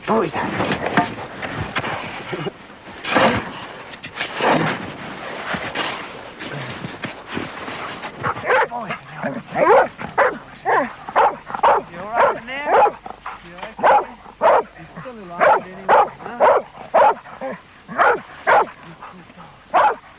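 A rescue dog barks in the snow at an avalanche search, a steady run of loud, evenly spaced barks filling the second half after a stretch of narration and noise.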